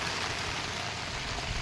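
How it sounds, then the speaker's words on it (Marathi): Heavy rain with big drops falls steadily outdoors, interrupting work: a dense, even roar of rain hitting surfaces, close and constant throughout, with no voices. "पाऊस पुन्हा आलेला आहे"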